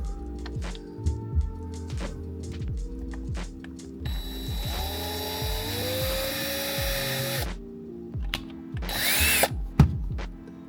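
A power drill bores holes into trim on a Ford Ranger Raptor, its whine rising in one sustained run over several seconds, with softer mechanical clicks and handling noises before and after.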